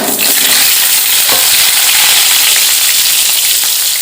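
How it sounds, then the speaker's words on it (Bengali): Potatoes for a chicken curry sizzle loudly and steadily in hot oil, a dense, unbroken frying hiss close up with no talk. "এবার মাংসের আলুগুলো ভেজে নেব খুব লাল লাল করে।"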